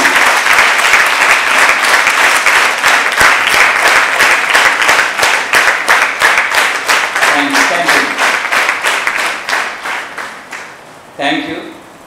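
Audience applause at a Plastic Free Day gathering in Telangana: sustained, dense clapping from a crowd that stays loud for most of the stretch, then thins and fades, with a brief final burst near the end.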